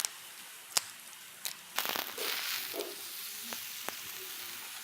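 Cod tails fry in a pan with steady, close sizzling, punctuated by sharp crackles and pops that rise into a denser hiss midway.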